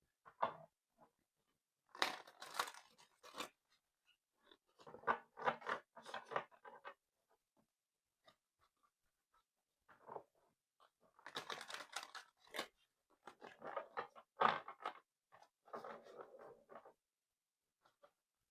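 Tarot cards are shuffled in short bursts of crisp riffling and flicking, with pauses between them. The sound is close and quiet.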